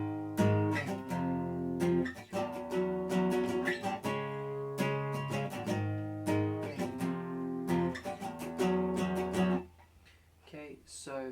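An acoustic guitar strums the chords of a song in a steady rhythm with ringing sustained notes, close and clear, fading out to softer picking at the end.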